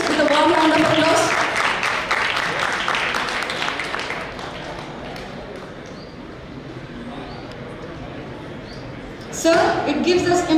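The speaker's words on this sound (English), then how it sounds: "Let us welcome our esteemed guest with a warm round of applause" An audience at a law college seminar on medical negligence gives a welcoming round of applause to a guest. A soft, diffuse patter of clapping fills the middle, with a person speaking before and after it.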